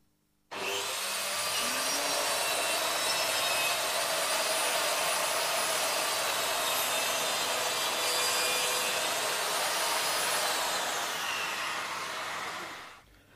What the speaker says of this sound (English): This accessory, which is supplied with the saw, means that you can use the extractor even when the saw is flat,